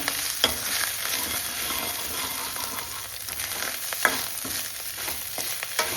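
A tadka for moong and masoor dal sizzles gently over a slow flame, a soft continuous crackle broken by a few sharp spoon taps and stirring scrapes.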